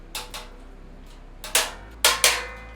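A few sharp metallic clanks and bangs as sheet steel is bent in a die, spaced irregularly, then a closer cluster of three loud impacts near the end, with quiet gaps between.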